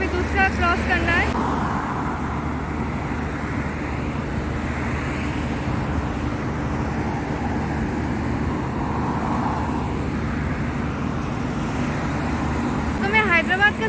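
Road traffic on a street in Doha: a steady broadband roar of passing cars and engines, with brief sharp chirps near the start and end, continuous and fairly close, no talking.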